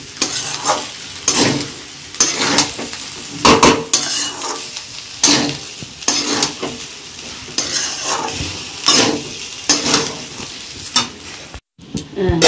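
Mutton biryani rice being stirred and fried in a pot: repeated scraping spoon strokes against the metal keep a fairly loud, steady rhythm over a constant sizzle, with no talking.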